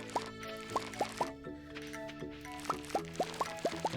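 Harvested parsnips picked up in the video game Stardew Valley, a quick series of soft bright pops and plops, about a dozen in uneven rhythm over steady background music.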